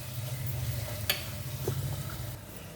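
Fish curry with raw mango cooking in a pan: a steady low sizzle of frying gravy with a couple of light clinks from stirring, moderately close and continuous, with no talking.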